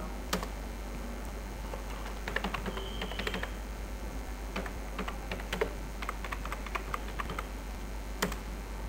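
Router configuration commands are typed on a computer keyboard in irregular bursts of sharp, close keystroke clicks, with a steady low hum underneath and no talking.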